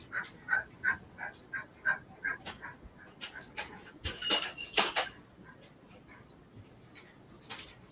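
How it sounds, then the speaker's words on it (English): A dog panting near a workshop, quick rhythmic breathy huffs in a steady run at first, then looser, softer breaths with a few louder rustling bursts in the middle. "We got a dog panting somewhere? Yeah, it's my dog."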